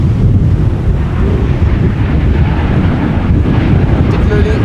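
Strong gusty wind after storm Isha at Amsterdam Schiphol Airport, a constant loud rushing roar buffeting the microphone throughout, no voices heard.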